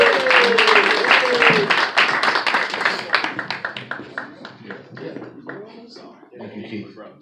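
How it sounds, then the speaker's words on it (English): Guests at the 49th Precinct Clergy Council's second annual dinner give a warm round of applause, many hands clapping briskly at first, then thinning and trailing off, with voices talking over and after it. "Give him a hand clap."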